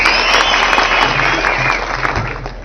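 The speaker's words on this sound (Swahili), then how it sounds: "Gavana wetu mtarajiwa wa Mombasa Omar, tumpigie makofi ya kuja nene nasi." A crowd at a Mombasa political rally applauds loudly and continuously, dense clapping filling the whole stretch at close range with a slight easing toward the end.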